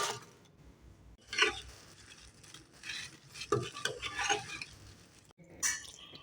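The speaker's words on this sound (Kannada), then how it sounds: "ಅದರಲ್ಲೆಲ್ಲ ಹಾಕಿ ಮಿಕ್ಸ್ ಮಾಡ್ತಾ ಇದ್ದೀನಿ" Baby corn being stirred into a prepared sauce in a pan for baby corn Manchurian, heard as quiet, uneven scraping and clinking of a spoon against the pan over a faint low sizzle, with no talking.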